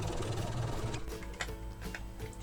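A sewing machine stitches across a fabric drawstring bag, an Easter chick craft piece, running steadily at close range for a couple of seconds with a busy mechanical whir and faint ticks.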